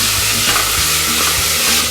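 Ginger garlic paste fries loudly in hot oil for a mutton curry, a dense, close, continuous sizzle with low thuds from stirring.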